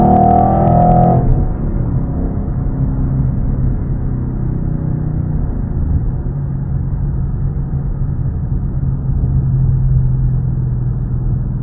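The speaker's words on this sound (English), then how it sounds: "I'll let you guys listen to the car and everything" A 2011 Ford Mustang GT with its 5.0 V8 drives along, a loud deep steady engine rumble with a brief revving surge at the start, then constant road drone.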